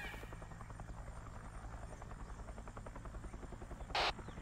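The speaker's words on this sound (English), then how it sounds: "Sounds like fucking Huey." A Huey helicopter flies somewhere nearby in a Vietnam-themed jungle setting, its steady rotor thump pulsing continuously at moderate distance, with a brief sharp crackle of radio or static near the end.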